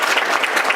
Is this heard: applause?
yes